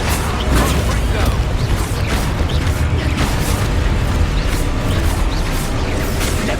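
A Confringo blasting spell goes off in Hogwarts Legacy combat: loud, dense bursts and booms over a busy mix of rattling effects, with a voice heard alongside.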